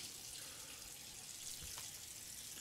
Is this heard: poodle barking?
no